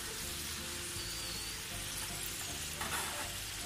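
Bakso meatballs deep-frying in hot oil, a steady dense sizzle and crackle running throughout with a slight burst of popping near the end, close and continuous with no voices.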